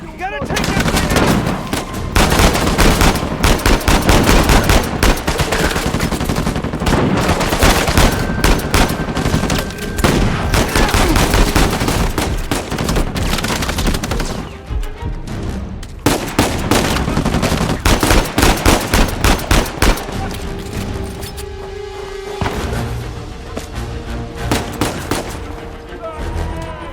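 Mounted turret machine-gun fire in the Uncharted 4 video game: long, loud, dense bursts of rapid automatic shots with a brief lull midway, mixed with impacts and game effects.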